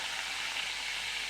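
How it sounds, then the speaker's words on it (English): Brandy poured into a hot pan with chicken and peppercorn sauce juices, giving a steady, bright sizzle that holds evenly through the short moment with no talk. "I'm just going to give it another touch of this brandy to loosen it up from the bottom of the pan"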